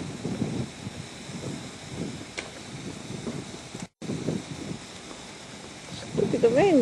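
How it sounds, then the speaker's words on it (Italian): Gusty wind buffets the microphone with low rumbling bursts, a brief dropout midway, and a few faint voices and tones near the end. "Vento."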